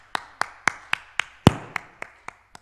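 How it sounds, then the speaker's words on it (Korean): Church congregation clapping together after a sermon, a series of about ten sharp, evenly spaced unison claps with one louder booming hit in the middle, fairly close and ringing briefly in the room. "이게 박수 소리가 이렇게 펑 소리가 나는 거네요"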